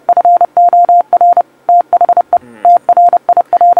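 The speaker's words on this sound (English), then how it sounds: "It's Morse code. It's definitely Morse code" Morse code beeps: a steady mid-pitched tone keyed in rapid dots and dashes, loud and clear with short gaps between groups, alone without any talk.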